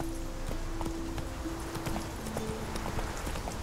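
Hooves of Roach, the horse from The Witcher 3, clop in a steady trotting rhythm over soft ambient game sound, faint and even across the whole stretch.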